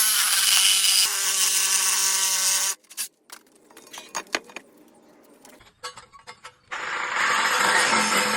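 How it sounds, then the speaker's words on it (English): An electric saw cuts through the last bits of reinforced shredder parts, loud and close, running in two long bursts separated by a quieter stretch of clanking and handling of metal pieces. "I'm cutting through the last bits with my electric saw."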